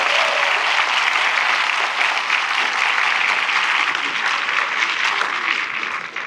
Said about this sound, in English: Let's give a round of applause to everyone who has helped join this beautiful health center throughout the world.